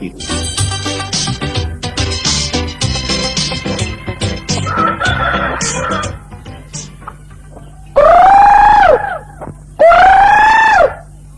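A breeding rooster crows loudly twice near the end, each crow drawn out and close, after a busy stretch of clucking, squawking and other noises.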